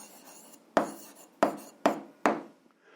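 Four crisp pen strokes on paper while writing down the answer to a math exercise, each a sharp scratching tap with a brief trailing rasp, close and quiet in an otherwise silent room.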